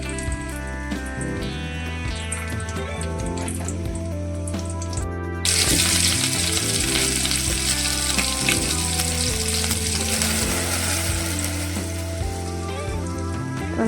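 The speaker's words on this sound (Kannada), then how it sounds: "ಕಟ್ ಮಾಡಿಟ್ಟಿರೋಂಥ ಈರುಳ್ಳಿ ಸ್ವಲ್ಪ ಹಾಕ್ತಿದ್ದೀನಿ." Chopped onions fry in hot oil in a pot for an egg sambar, with a steady sizzle that jumps to a louder, denser crackle midway and continues under background music.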